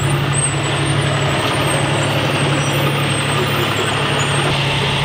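A delivery truck with air brakes arrives, its diesel engine producing a loud, steady rumble up close, with a faint hiss running over the top.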